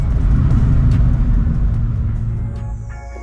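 Peugeot 106 Quiksilver running on its original air intake, a loud, steady engine rumble close by that fades slightly toward the end as revs shift, with no talking.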